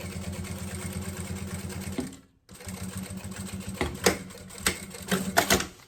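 A sewing machine stitches fabric for a maternity bag in rapid, even bursts of loud mechanical clatter. The sound stops briefly, then starts again with sharper clicks and knocks as the work is handled.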